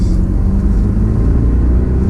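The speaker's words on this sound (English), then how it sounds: "for a car this heavy, man, it picks up like this." A heavy BMW Alpina B7 sedan with 500 horsepower accelerates hard, a deep, loud continuous engine rumble filling the cabin with no talking.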